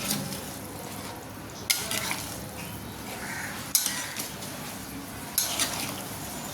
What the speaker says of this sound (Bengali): মাছগুলো ঢেলে দিয়ে হালকা করে এটা নেড়ে চেড়ে মিশিয়ে নেব।